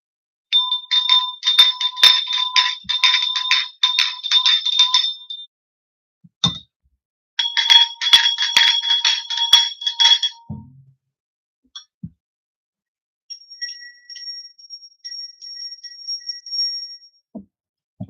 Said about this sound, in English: let's clear out the energy and get started with some sound clearing. I'm going to do the bells.